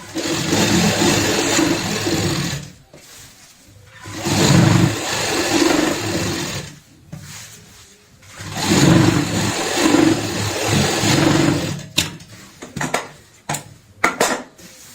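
An electric sewing machine stitches a bed sheet, running in three long whirring bursts separated by brief pauses, then a few quick clicks near the end. No one speaks.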